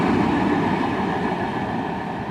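A CSX ore train led by an ES44AH locomotive rolls past at sunset, a steady, loud broadband rumble of wheels and cars that holds throughout without breaks.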